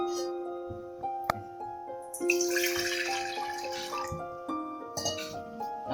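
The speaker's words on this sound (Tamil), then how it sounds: "ஒரு டம்ளர் தண்ணி அளவு ஊற்றி வச்சுருக்கேன்" Water pours and splashes into a cooking pot in a home kitchen, a bright trickling rush that swells in the middle, with sustained tonal hums running underneath.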